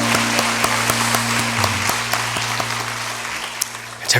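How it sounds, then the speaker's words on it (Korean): A congregation at a church Sunday service applauds steadily over a low sustained hum, the clapping dense and even before tapering near the end. "우리 하나님께 영광의 박수 올려드리겠습니다."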